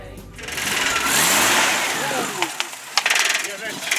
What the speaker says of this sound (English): that smooth six-cylinder power